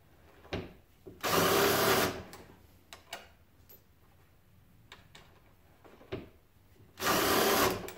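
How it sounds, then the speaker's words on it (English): A power trimmer cuts brass rifle cases on a Lee Breech Lock reloading press in two short whirring bursts, separated by light clicks and taps of cases being handled. "Because trimming your brass after sizing is part of the process."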